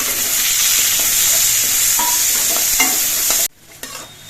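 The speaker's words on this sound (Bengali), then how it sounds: "এবার পেঁয়াজগুলো কিছুক্ষণ ভেজে নিতে হবে" Chopped onions fry in hot oil for a doi chingri prawn dish, a loud, dense, close sizzle with faint stirring clicks that cuts off abruptly near the end, leaving near quiet.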